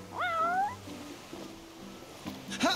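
A cat in the video game Final Fantasy XV gives a couple of clear, rising meows, close and fairly loud, with a sharp higher cry near the end over soft game ambience.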